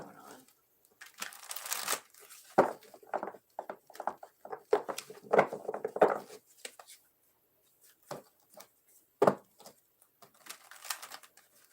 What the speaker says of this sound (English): Let me just shuffle these so they don't know what's going on.